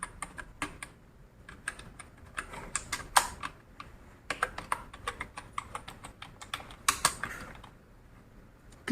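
Keys clatter on a computer keyboard during Hindi typing practice, an irregular run of close, crisp clicks and taps with short pauses, heard alone without speech.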